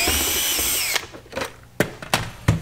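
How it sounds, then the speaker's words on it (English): A power drill drives screws back into the dash housing of an old V8-swapped Honda fitted with a digital dash, sounding as a long whirring run followed by several short, sharp bursts close by, with no talking. "I'm just going to put the screws back."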